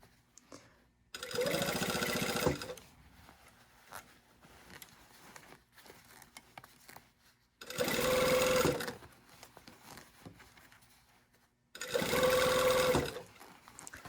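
A sewing machine runs in three separate bursts, each lasting about one to two seconds, as it stitches a garment's lining to the hem. Quiet handling noises fill the gaps between bursts.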